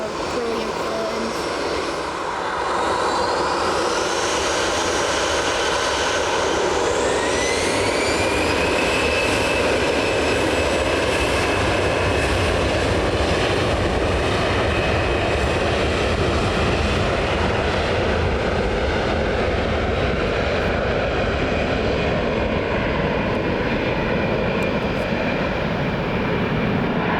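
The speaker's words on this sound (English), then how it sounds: "This EasyJet just pulling short." EasyJet jet airliner at Manchester Airport, a loud steady engine roar with rising whine tones, heard continuously close by throughout.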